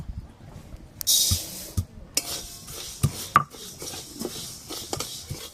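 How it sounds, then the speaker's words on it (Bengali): Dry mung dal stirred in a dry wok gives close, irregular scraping and rattling bursts with scattered clinks of the spoon against the pan, alternating with short quiet gaps. "শুকনো কড়াতে মুগের ডালগুলো ভালো করে একটু নেড়ে নেব"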